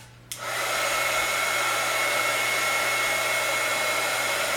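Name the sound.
heat gun blowing hot air on coffee filter flowers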